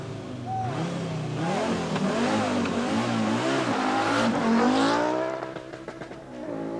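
Rally cars start a special stage at the 1984 Sanyo Rally New Zealand, a close engine revving hard with climbing and falling pitch as it accelerates away, then fading toward the end.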